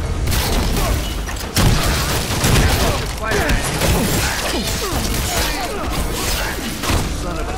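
Gunfire in Evil Dead: The Game sounds as repeated loud bursts and thuds through a dense, busy mix, with people talking over the fighting.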